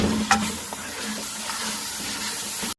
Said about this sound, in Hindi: अब मैं इसको भून लूँगी 5 मिनट।